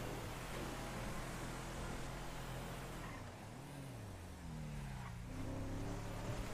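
A car driving in a video game, a steady rumbling engine with noisy broadband wash, pitch sliding and wavering midway as it shifts or turns, moderately loud and continuous with no voices.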